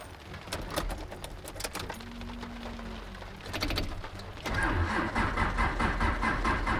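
Mazda 3 engine cranking repeatedly in stuttering bursts, a brief whine, then catching and settling into a steady mid-pitched idle, recorded close and fairly quiet.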